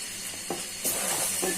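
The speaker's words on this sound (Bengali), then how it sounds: "এখন নেড়ে চেড়ে মশলাটা সহ চাউলগুলো ভেজে নিই।" Khichuri rice sizzles and crackles with spices in a hot pan as a spoon scrapes and stirs it in a few quick strokes.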